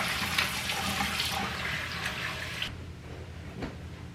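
Warm tap water running over hands at a sink, a steady close rush of water that shifts and softens partway as the hands move under the stream.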